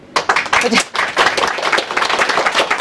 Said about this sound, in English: It's a lot of clapping